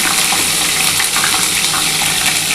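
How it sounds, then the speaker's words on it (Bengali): Snakehead fish pieces fry lightly in hot oil, making a dense, even, continuous hiss that stays loud and close without pause, with no voices. "দেখো এগুলো কিন্তু খুবই হালকা করে ভাজবো।"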